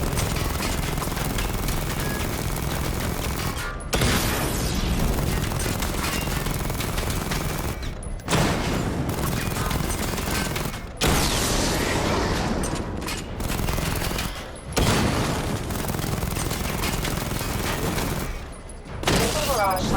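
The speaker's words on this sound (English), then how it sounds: "Destroy targets to charge up weapon energy and activate missile barrage" Rapid video-game weapon fire from Batman: Arkham Knight as targets are destroyed, dense bursts of gunfire and booms filling the whole stretch with brief pauses, a synthetic voice speaking over parts of it.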